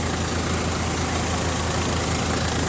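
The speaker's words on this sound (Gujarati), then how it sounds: "આપણે ટ્રેક્ટર અગિયારસો આરપીએમ ઉપર ચાલે છે અગિયારસોથી સાડા અગિયારસો જેવા" A tractor engine idles steadily at around 1100 rpm, a loud, even low rumble with a constant drone and no change in pace over the short stretch.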